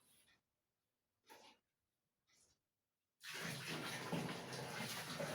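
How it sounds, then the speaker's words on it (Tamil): A few brief splashes, then water gushes steadily and loudly from a hose into a tub, a continuous rushing pour filling the rest of the clip. "என்ன தண்ணி ஊற்றுறேன்"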